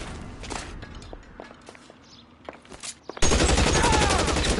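Video-game gunfire as shots are aimed at barrels, with sharp bursts scattered over a busy background, then a dense, loud stretch of continuous firing near the end.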